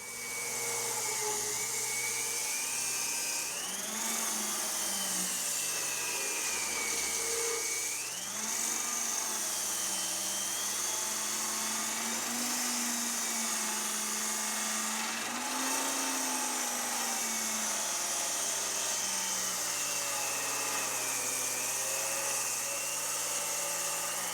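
A power tool whines steadily and loudly, its pitch sagging and recovering as it bites through wood, running continuously without pause.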